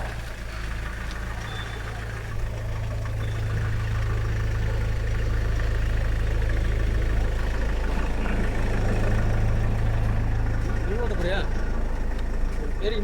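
Mahindra Scorpio engine idling, a steady low hum with a constant throbbing drone, close and continuous, while voices talk and birds chirp faintly in the background.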